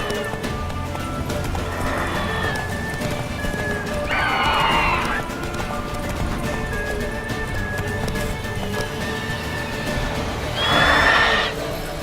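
Horse in The Witcher 3 galloping with steady clip-clop hoofbeats under game music, with two loud neighing whinnies breaking through, one near the middle and one near the end.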